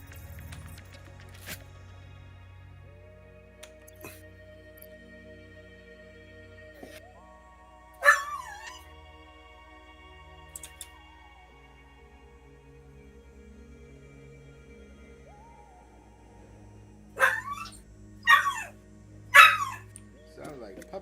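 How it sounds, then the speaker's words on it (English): Puppies barking in the background of a quiet indoor scene, a couple of brief yips early, then a cluster of three or four sharp barks near the end, heard faintly over low steady electronic hum. "Sounds like puppies having an issue."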